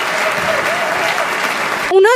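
A church congregation applauds in praise, steady dense clapping filling the space for about two seconds, then a voice cuts in at the very end.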